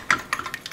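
An egg whisked into brownie batter in a pan: a short run of quick, light metallic ticks and taps, close and fairly quiet, with no voices.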